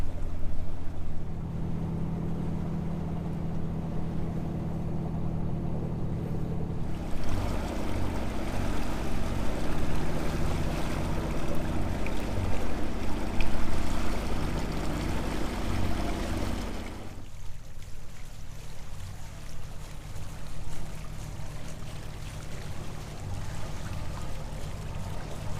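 A sailboat motoring on the sea under engine power, with a constant low engine drone and rushing water. The level shifts partway through, and the rumble stays close and steady throughout.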